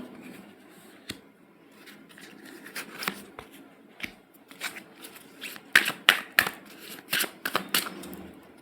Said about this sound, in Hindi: इन्हीं कार्ड्स को हम डिफाइन करने के लिए एक और रो निकालेंगे